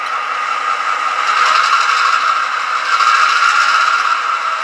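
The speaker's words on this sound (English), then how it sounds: "what it does is it brings the RPMs up, and the locomotive hasn't moved an inch" An Athearn Genesis GP38-2 model diesel locomotive's sound system revs up to notch 8 while standing still, giving a steady, loud whirring engine drone that swells slightly and holds without pause or speech.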